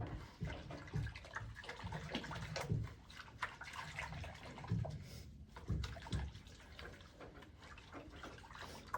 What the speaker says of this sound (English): I've got warm water here with a little bit of oil.